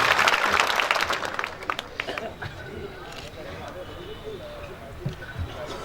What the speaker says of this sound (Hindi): जोरदार तालियों से स्वागत करें अपने खास मैसेज के साथ